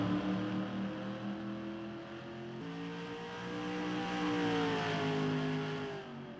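Race cars lapping at Evergreen in a FARCA racing game event, engines droning loudly with pitch shifting through gear changes and rising as cars accelerate, continuous, with no talk.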